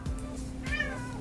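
Domestic cat meowing once, a short rising and falling cry near the middle, heard alone against a quiet room with a faint steady hum behind it.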